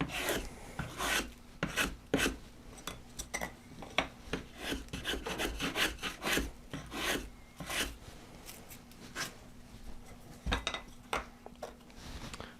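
Repeated rasping strokes of a blade shaving wooden guitar top braces, close and uneven in rhythm, with scraping bursts following one another and no talking.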